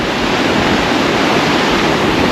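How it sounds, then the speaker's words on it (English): A river flows through a mountain valley in Norway, sediment-laden after rain, giving a loud, steady rushing roar of water with no breaks and no voices. "We've got this amazing river."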